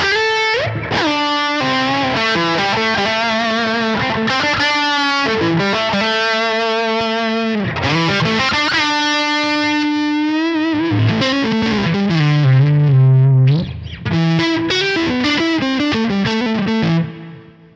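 An electric guitar plays chords and notes through a Keeley Noble Screamer overdrive pedal, fuzzy distortion, loud and continuous, with sustained gritty tones.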